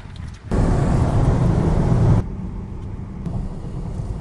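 An Opel Insignia cruises on the motorway, a steady low road and engine drone inside the cabin that swells into a louder rushing stretch before settling back to a quieter hum.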